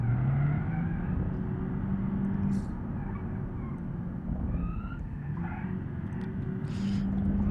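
A base-model hybrid car's engine drones at a steady pitch while driving fast around the Nürburgring in BeamNG.Drive. The hum is low and constant, with slight shifts in pitch and rumbling road noise underneath.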